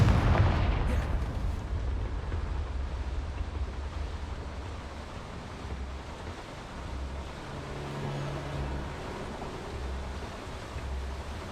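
A Confringo spell explosion in Hogwarts Legacy starts with a sharp blast, then rolls into a long, low rumbling roar that stays fairly steady and moderately loud throughout.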